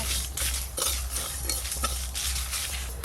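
Mustard seeds, poppy seeds, whole cumin and dried chillies being tossed in a dry wok, a rhythmic series of scraping strokes, roughly two per second, over a faint dry rustle.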